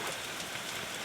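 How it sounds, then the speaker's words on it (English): Light rain drizzles onto a tent during winter camping, a soft, steady, faint patter with no voices. "Just drizzling at 9 o'clock"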